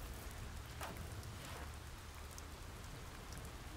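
Rainstorm in the video game Oxenfree, a soft, steady wash of falling rain with scattered droplet patter, faint and unbroken with no voices.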